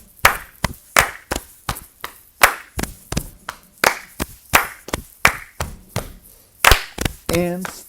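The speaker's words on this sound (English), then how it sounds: "If you're having a hard time, follow the clap." Hand claps in a steady, regular rhythm lead a second-grade class exercise. The claps are sharp and evenly spaced and keep going throughout, with a brief voice near the end.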